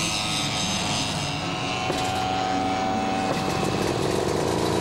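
An Italian aircraft takes off at an air show in France, its engine a steady, loud, rough drone throughout with a slight swell partway through.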